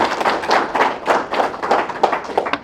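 A small audience at a National Reconciliation Week community health event claps, a close, loose patter of individual hand claps in irregular bursts rather than a full roar.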